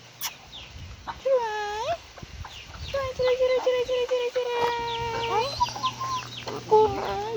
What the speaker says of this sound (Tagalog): Ako nga mga alagang manok.